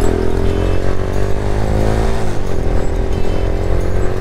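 A Daelim Daystar 125 motorcycle engine runs close by with a loud, steady mid-pitched drone, its pitch dipping briefly partway through before settling again.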